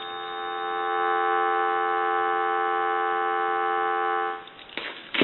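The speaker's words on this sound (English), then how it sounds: "I'll give you some dial tone." A steady, continuous payphone dial tone hums for about four seconds, then cuts off into a few clicks and handling noises.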